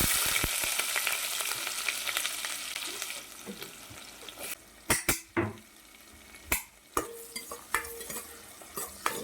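Mustard seeds, fenugreek and onion frying in a kadai give a steady sizzle across the whole stretch, broken in the second half by several sharp metallic scrapes and clacks of stirring.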